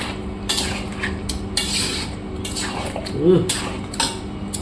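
Metal spoon scraping and clanking in a pot as chicken masala is stirred and fried, with several irregular bursts of scraping over a steady low sizzle and background hum.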